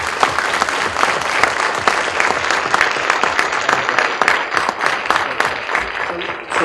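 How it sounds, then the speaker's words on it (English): A presentation audience at a NASA and SETI research program breaks into a round of applause, a dense, even patter of many hands that continues steadily at close range before tapering slightly at the end. "How about a round of applause?"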